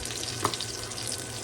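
Chicken sizzles in a frying pan, a steady crackling hiss with a small plop as a piece is dropped in, close and continuous with no talking.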